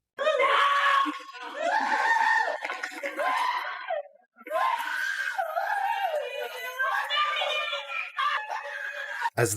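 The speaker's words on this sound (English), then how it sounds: "a piercing scream erupts from one of his family members, echoing through the courtroom" Sustained high-pitched screaming and wailing from a convict's family member in a courtroom, loud and close, in long anguished bursts with a brief gap before it resumes.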